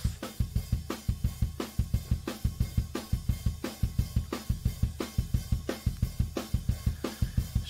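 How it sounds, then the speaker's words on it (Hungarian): A raw, unprocessed drum kit recorded with ribbon microphones, playing a steady fast beat of punchy kick and snare hits with a dense wash of cymbals, loud and close throughout with no voices. "a dob az így magában az így szól most itt tök nyersben"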